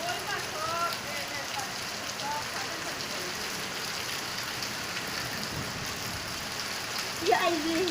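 Steady rain pattering on a surface during a monsoon downpour, continuous hiss with scattered drops and a brief louder clatter near the end, with faint background voices.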